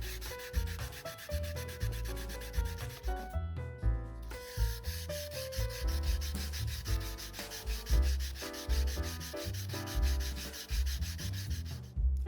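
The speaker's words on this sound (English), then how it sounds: "Now I begin hand sanding, starting off with 220 grit." A San-Mai petty knife is hand sanded with 220 grit paper in long, repeated rubbing strokes, close and steady, with music playing underneath throughout.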